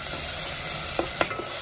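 Onions and tomatoes sautéing in a pan, a soft steady sizzle with a few faint stirring clicks and scrapes near the end.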